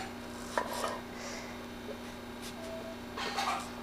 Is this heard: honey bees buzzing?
no